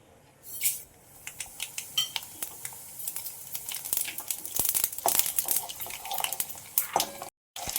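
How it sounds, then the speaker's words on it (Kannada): Mustard seeds spluttering in about three tablespoons of hot oil while puliyogare is cooked, a close, busy stream of sharp crackling pops with occasional clinks of a pan. "ಸಾಸಿವೆ ತಿಪ್ಪುತ್ತಾ ಇದೆ"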